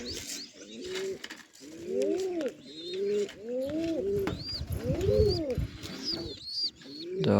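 A white pigeon at the nest with its eggs coos in repeated rolling phrases, close and clear, with a few faint higher chirps over the top.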